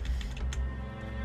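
Computer keyboard keys are pressed in a quick cluster of light, sharp clicks while a Control D shortcut is entered, heard close over a steady low electronic hum.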